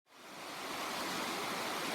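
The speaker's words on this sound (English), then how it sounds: "It's been raining off and on all night long, and the creek has lots of water in it." A creek at the Deep Creek campground in North Carolina runs full after a night of off-and-on rain, making a steady, loud, broadband rush of water that swells in within the first moments and then holds constant.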